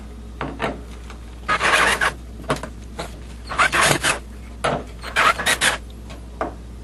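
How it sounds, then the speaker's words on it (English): Screws being backed out of a wooden cleat on an arcade cabinet speaker panel, heard as several separate raspy grinding bursts with short pauses between them, close-up and fairly loud. "Right now we'll just go ahead and take these screws out."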